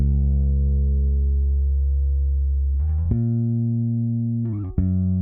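Deep, sustained bass guitar notes ring out, then shift to a new pitch twice with a plucked attack, alone and fairly loud.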